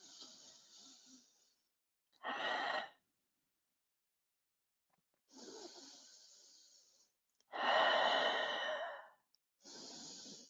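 Slow, deep breaths during a yoga flow: several long audible inhales and exhales separated by silent pauses, close and fairly soft, with no talking.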